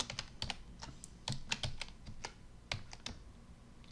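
Someone types on a computer keyboard while running Robot Framework tests, producing irregular clusters of close, crisp key clicks and taps alone for a few seconds.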